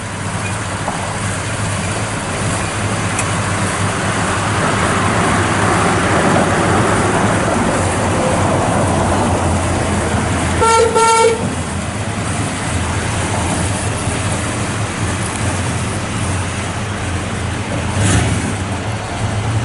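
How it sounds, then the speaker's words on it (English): A 1967 Chevrolet Chevelle Malibu convertible with a 283 V8, four-speed and factory dual exhaust through quiet mufflers drives past. It gives a steady, moderately loud engine hum throughout, with a short tonal chirp near the middle and a brief swell later on. "Just got nice factory dual exhaust on it."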